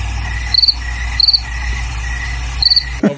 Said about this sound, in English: the crickets are still going